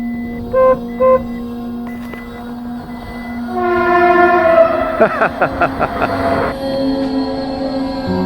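A train sounds two short horn toots, then a long blast as it passes, with rhythmic clacking of wheels over rail joints, in Poland in spring.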